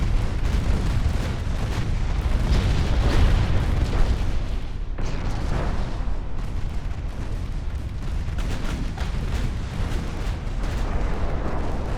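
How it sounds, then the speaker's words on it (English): Torpedo detonations and heavy gunfire in the naval battle game Ultimate Admiral Dreadnoughts, a dense, continuous rumble of booms and blasts lasting throughout, loud and without talk. "Detonated one torpedo, but they still got most of them left."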